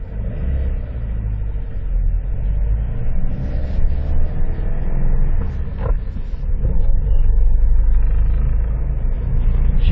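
A 1989 Ford Sierra drives through the streets of Çorlu, its engine rumbling close and loud with rising revs and swells of acceleration, and occasional higher rattles above the roar.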